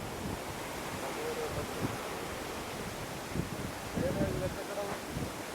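Sea waves wash onto a beach beside a beach resort near Varkala, making a continuous broad roar mixed with wind rumble, with faint voices now and then.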